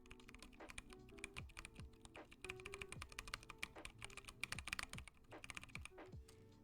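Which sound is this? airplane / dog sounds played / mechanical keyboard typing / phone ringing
mechanical keyboard typing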